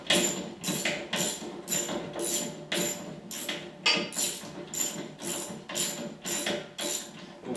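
A ratchet clicks steadily as a HYTORC Smart Stud nut is run out along its bolt, with about a dozen bursts of close, sharp ratcheting in a regular rhythm and no talking.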